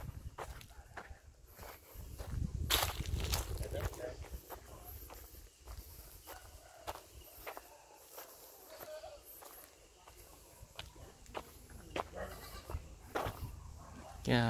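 Goats bleat now and then on a fruit farm with goat pens, mixed with footsteps and handling noises close by, while people talk intermittently in the background.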